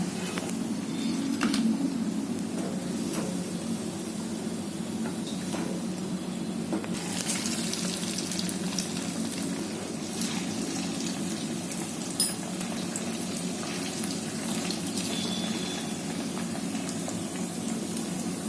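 Poha medu vada deep-frying in hot oil until golden brown, a steady soft sizzle and bubbling that runs continuously, with occasional faint clinks of a utensil.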